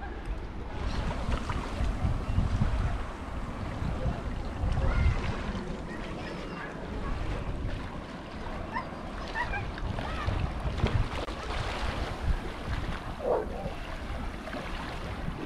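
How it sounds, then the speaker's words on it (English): Waves wash and churn nearby in a continuous broad roar, mixed with wind buffeting and faint voices in the background. "He doesn't like the waves."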